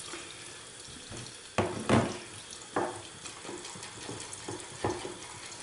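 Tap water runs onto a synthetic shaving brush, a soft continuous trickle with several louder splashing surges as the bristles are soaked, close by and fairly quiet.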